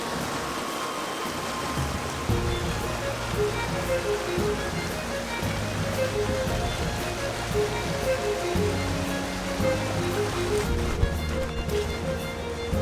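Rushing river water at a crossing in the Scottish Highlands, a steady broadband wash of flowing current heard close and continuous throughout, with no voices.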